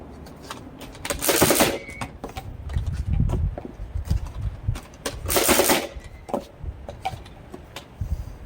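A Nerf Mega XL Double Crusher blaster fires darts in repeated rattling bursts, each volley a loud close mechanical clatter, with quieter clicks and handling noises between shots.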